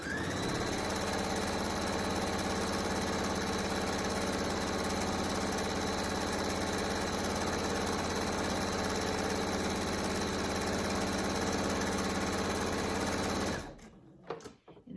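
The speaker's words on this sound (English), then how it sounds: "You're going to sew all the way down this one side." A sewing machine runs at a steady, fast hum as it stitches a straight seam in fabric for a flat bat wrap, loud and close, then stops abruptly near the end.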